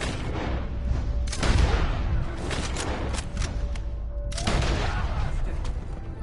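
Gunfire in the video game Red Dead Redemption 2: several loud, sharp shots crack out in bursts, each with a booming tail, over a continuous rumbling background.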